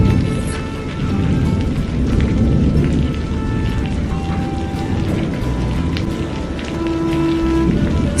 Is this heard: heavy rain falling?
yes